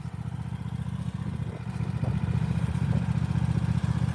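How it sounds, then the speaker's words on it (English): A small tractor engine idles close by in a snowy driveway, chugging with a steady rapid beat and faint clatter and rising slightly partway through, with no talk. "I'm gonna let this thing idle here for a second"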